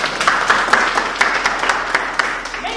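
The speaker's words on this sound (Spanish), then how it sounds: "Un aplauso a José Antonio" Schoolchildren and adults at an art museum event applaud a pupil, a lively run of quick, close handclaps with distinct individual slaps, steady for a few seconds.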